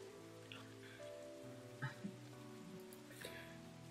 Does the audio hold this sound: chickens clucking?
no